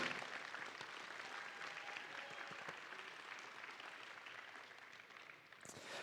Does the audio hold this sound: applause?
yes